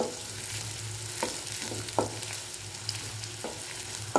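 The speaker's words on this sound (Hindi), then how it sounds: "प्याज को थोड़ा सा हम गोल्डन ब्राउन होने देंगे। मैंने अभी फ्लेम लो मीडियम रखी हुई है, अभी मैं फ्लेम हाई कर दूंगी" Sliced onions sizzle steadily in hot oil in a pan on a high flame for a veg burger, a continuous close frying hiss broken by a few soft stirring scrapes, with no talking.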